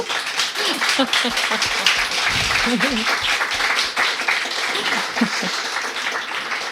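Audience applause at a French academic lecture on Walt Whitman, a steady dense wash of clapping throughout with a few voices talking over it.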